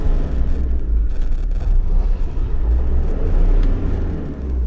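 A car that is not four-wheel drive, stuck in deep snow, drones with a steady low engine rumble and whir that swells slightly as it revs, close and loud throughout with no talking.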